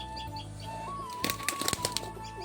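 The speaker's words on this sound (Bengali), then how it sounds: "এই যে এক করে সব পায়রা নিচে লাভছে" Domestic pigeons flutter down one after another at a friend's home loft: a short cluster of soft, close wing flaps comes in quick bursts over a steady background hum and a faint whistle-like tone.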